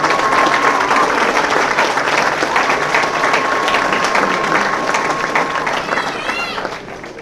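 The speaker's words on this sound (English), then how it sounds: "let's give yourselves a round of applause" Loud, sustained applause from an audience at a Marine recruit ceremony, a thick continuous roll of clapping with scattered voices and a whistle, easing slightly near the end.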